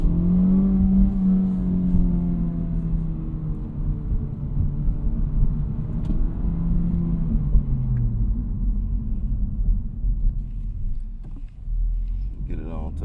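A 2024 Honda Civic Type R cruises at higher speed, its engine giving a steady droning rumble with a rising and falling tone under strong road and wind roar, and a voice speaking faintly over it.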